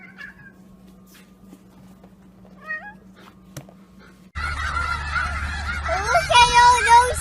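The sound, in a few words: geese honking, called chickens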